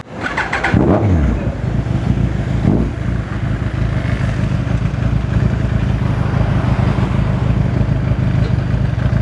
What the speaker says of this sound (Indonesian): sekarang kita tes jalan sebentar motor ini untuk mengetahui kondisinya sebelum nanti kita bongkar